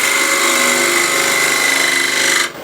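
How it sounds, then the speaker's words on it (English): Bowl gouge cutting a square tenon on a wood lathe: a loud, steady, tonal whir and rough scraping that holds for about two and a half seconds, then drops off sharply as the cut ends. "So at the moment I'll make a square tenon here"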